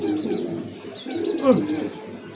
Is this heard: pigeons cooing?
yes